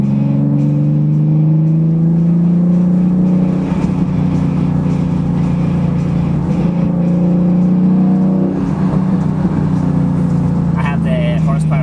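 A car with a Horse Power Freaks Stage 2.5 aftermarket exhaust drones loudly from inside the cabin during town driving, its pitch rising as it accelerates, then dipping and climbing again through a gear change.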